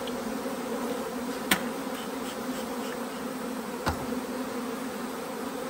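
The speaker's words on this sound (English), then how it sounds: "Man, these bees are just so prolific." Honey bees buzz in a dense, steady drone around an open hive with supers being handled, the swarm noise continuous and close, broken by a couple of sharp knocks.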